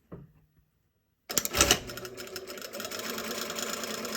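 A sewing machine stitches a visible seam at a longer stitch length on fabric, starting abruptly after a brief quiet moment and then running as a steady, close, continuous mechanical whir.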